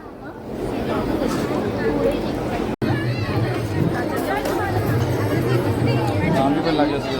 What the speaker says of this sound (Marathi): या जेवायला पब्लिक गर्दी बघा फुल गर्दी आहे